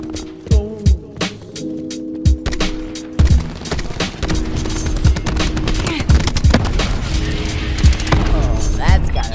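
An in-game artillery barrage: a series of sharp, heavy impacts and booms land in quick succession, loud and close, over a rumbling battlefield bed with overlapping blasts that grow denser toward the end.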